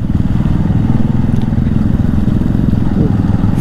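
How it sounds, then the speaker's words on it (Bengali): Several motorcycles ride along a winding mountain road, their engines giving a steady, dense, close rumble throughout with no pauses. "এত বাইকের সাউন্ড হচ্ছে"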